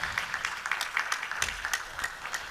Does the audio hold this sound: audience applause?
yes